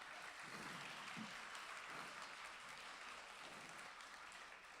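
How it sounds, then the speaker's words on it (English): Very faint, distant applause from an audience at a student concert at a community college, a soft continuous wash of clapping with a few low murmurs underneath. "So a big round of applause."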